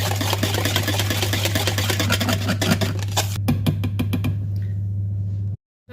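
Chocolate muffin batter of eggs, oil, sugar and melted chocolate is mixed with a steady motor hum and rhythmic clicking strokes, which stop abruptly near the end.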